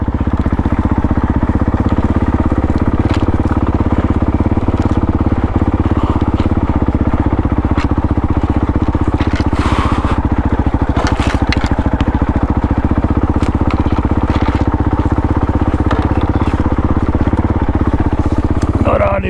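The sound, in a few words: dirt bike motorcycle engine idling with clutch half in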